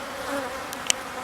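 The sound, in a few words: honey bees buzzing at hive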